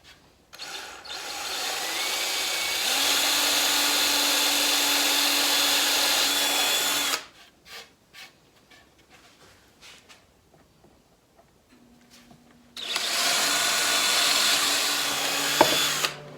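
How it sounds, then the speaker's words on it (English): A power drill bores a pilot hole into a 7/8-inch-thick wooden upright, whining loudly for several seconds, falling quiet amid small handling clatter, then starting again for a second burst. "I'm going to be drilling the pilot hole in the upright member"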